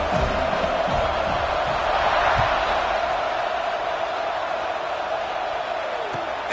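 A stadium crowd roars in a college football video game, Iowa hosting UCLA, a dense, constant wash of cheering noise that fills the whole stretch at steady loudness.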